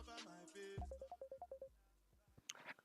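A phone rings with an incoming call during a live trading session: a short melodic ringtone of repeated chirping beeps, fairly faint, after a brief bit of talk.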